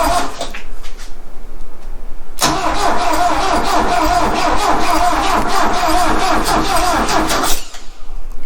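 Engine of a 1973 Saab Sonett that sat for 37 years cranking loudly and steadily at close range for several seconds, with a brief click before and a quieter tail as it stops.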